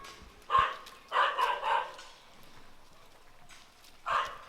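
Dogs at an elephant-park rescue sanctuary bark in short bursts, one sharp bark, then a quick run of three, then another after a pause, moderately near over a quiet outdoor background.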